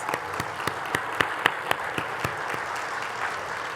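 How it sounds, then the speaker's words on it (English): Another round of audience applause for conference panelists at a lunch plenary, a steady patter of clapping with a few louder, distinct claps standing out, moderately close and continuous. "Let's give them another round of applause."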